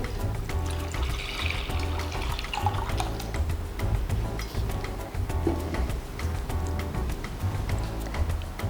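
Milk pours steadily into a pot with a continuous splashing, gurgling stream, close by, with no voices.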